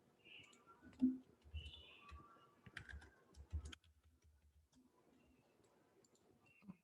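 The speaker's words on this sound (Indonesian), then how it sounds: "Nah, ini contekan saya mau ketikkan." Computer keyboard typing comes in short irregular bursts of close, fairly quiet clicks, then fades into near silence for the last few seconds.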